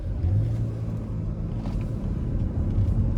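Steady low road rumble and engine drone from inside a 2018 Cadillac XT5 Platinum AWD crossover cruising along a road, continuous and even with no talking.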